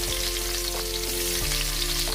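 Onions frying in hot oil in a home kitchen, a loud close steady sizzle filling the whole moment, with faint tonal hum and occasional light stirring movement beneath the crackle.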